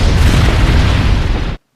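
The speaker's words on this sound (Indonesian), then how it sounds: "dia berhasil meledakkan ratu serangga itu" A film explosion blows up the insect queen: one loud, full-bodied roaring blast that holds for about a second and a half, then cuts off abruptly into silence.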